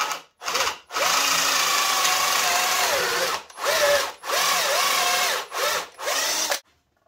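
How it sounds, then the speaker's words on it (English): A power drill with a 12 mm bit bores into a router template in several loud bursts of whining, grinding drilling separated by short silent pauses, its pitch sagging and rising under load, with no speech. "So I put a piece of tape on my drill bit to make sure that I stop at the correct depth."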